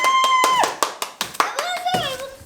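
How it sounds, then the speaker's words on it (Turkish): Claps from a small group right after birthday candles are blown out at a home celebration, several sharp hand claps scattered under a child's and adults' excited voices and sung tones. "Alkış, alkış, alkış."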